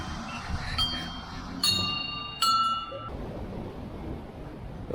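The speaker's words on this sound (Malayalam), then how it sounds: "ഭഗവാനെ മണിയടിക്കുന്ന ഗാർഗി." A temple bell at Baba Mandir in East Sikkim is struck three times at an even pace, each clang ringing out with a shimmering metallic decay over soft outdoor background noise.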